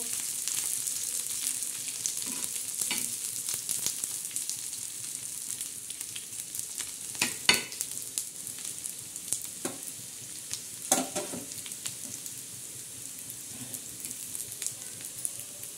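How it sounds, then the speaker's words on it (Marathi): Onion and spice masala frying in a pan, a continuous close crackling sizzle with scattered sharper pops and occasional stirring scrapes, without talk. "आता हा मसाला कसा भाजणार आहे ना ते मी तुम्हाला दाखवणार आहे"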